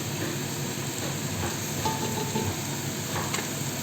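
Spices and tomato paste being stirred in a hot pot for Arabic marag bamiya, with a steady close sizzle and faint scraping of the spoon.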